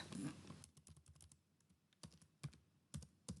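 Computer keyboard typing as a file name is entered: a quick run of soft clicking keystrokes, then sparser, louder taps near the end, close and quiet with no talking.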